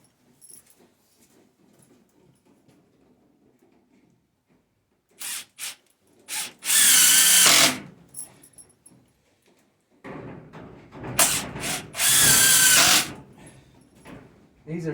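A power drill drives 3.5 inch coated screws during construction of a pig waterer for winter, in two loud sustained whirring bursts with short trigger blips and quieter handling noise between.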